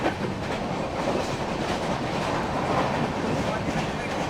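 A crowded local train rolls toward Panvel near Mumbai, its steady, loud rumble and rhythmic wheel clatter filling the carriage without pause.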